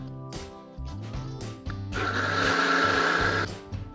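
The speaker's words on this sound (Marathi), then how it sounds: "डाळ आता मिक्सरला लावून घेऊया।" A mixer grinder whirs loudly through soaked urad dal and hot water for Malvani amboli batter, a steady grinding roar rising and holding for about a second and a half over lighter kitchen sounds.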